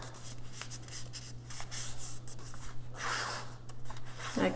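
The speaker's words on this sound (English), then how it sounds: "So you're gonna fold along this line here," Paper from a banner being creased and folded along a line, giving close, soft rubbing and scraping strokes with a brief crisp crinkle near the end, over a faint steady background hum and without speech.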